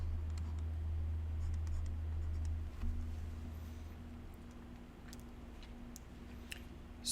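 Pen or marker scratching across paper or a board while a physics diagram is drawn by hand, a soft intermittent writing sound under a steady low hum, with no talking.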